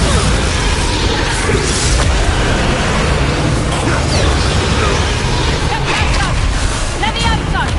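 Bombarda blasting spell explosions in the video game Hogwarts Legacy, heavy crashing booms and whooshing debris amid continuous battle noise, loud and close, with voices shouting over the chaos.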